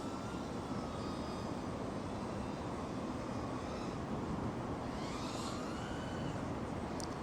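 A FlyWoo Fly Lens 85 FPV drone flies outdoors on heavy throttle, its buzzing whine a continuous, steady drone that stays fairly distant and even throughout.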